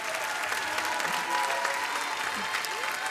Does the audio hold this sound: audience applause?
yes